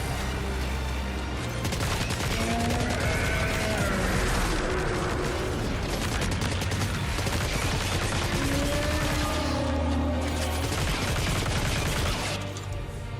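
Gunfire in the video game Death Stranding 2: heavy, rapid bursts of shots and blasts crowd together into a loud, sustained barrage with no voices over it.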